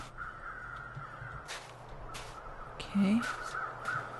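Crows cawing in The Long Dark, a few harsh caws spaced across a few seconds over a quiet wind-like bed, with a short spoken word near the end.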